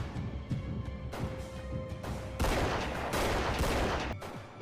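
Gunfire in a Prison Break television episode comes as a dense fusillade of rapid shots, loud and continuous, intensifying in the second half with overlapping bursts.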